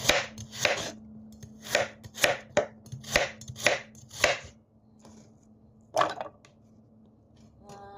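Rapid knife chopping of carrot and other vegetables on a board for Shanghai spring roll filling, a quick burst of sharp close strikes followed by a pause and a couple of final chops.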